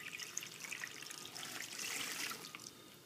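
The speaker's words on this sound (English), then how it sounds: "And we'll throw in some water, because we don't want it all get eaten up." Water pours and trickles steadily into a container holding denim for leather vest work, a close, continuous splashing stream that swells slightly near the end, with no voices.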